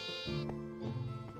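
Sheep bleat in the Minecraft Stoneblock modpack, two short wavering game bleats close together, loud and clear with no talk over them.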